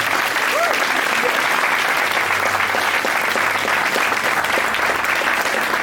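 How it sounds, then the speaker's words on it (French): A church congregation claps and cheers loudly for the Lord during a worship service, a steady dense wash of applause lasting throughout with crowd voices mixed in. "Acclame le Seigneur très fort."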